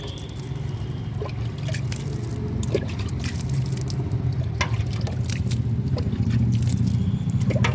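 Water sprinkled over young eggplant plants on a rooftop in the afternoon, scattered drips and soft splashes landing in quick irregular bursts over a steady low outdoor hum.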